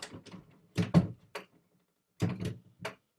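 A door is checked and pushed shut, giving a few close knocks and thunks in two short bursts with a quiet pause between them.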